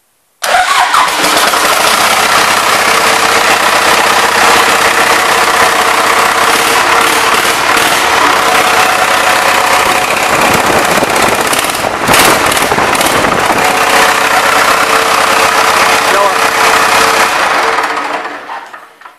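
A Cummins 4BT four-cylinder diesel in a Power Wagon cranks, fires and settles into a loud, clattering idle close by, running steadily for most of the stretch before cutting off at the end.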